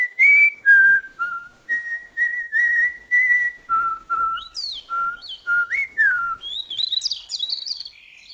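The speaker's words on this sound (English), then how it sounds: "Now we have a human whistling, harmonizing with a natural bird song." Human whistling blends with natural birdsong in AI-generated audio: clear melodic whistled phrases run for several seconds, then higher chirping bird calls take over toward the end, loud and close with no talking.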